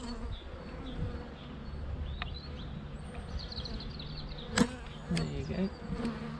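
Honey bees buzz steadily at an open beehive during an early-spring inspection, a close, continuous drone with a few sharper clicks, while a person speaks briefly.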